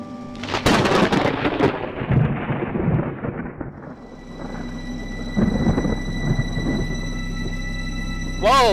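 Video game thunderstorm with lightning and rain: a loud rolling thunder crash at the start that fades into a low rumble, followed by steady rain and a hum, with a brief electronic tone near the end.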